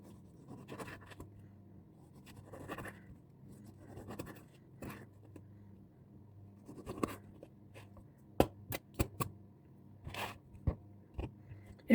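A knife slicing a tomato into thin rounds for burgers, a series of soft, close cuts and board taps at an irregular pace, ending with several sharper clicks.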